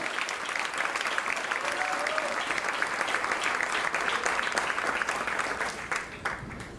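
A church congregation applauds strongly, a steady wash of many clapping hands heard from the room, holding evenly before tapering slightly at the end.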